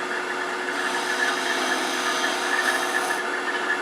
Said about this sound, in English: Edge of the skew for kind of shear cut.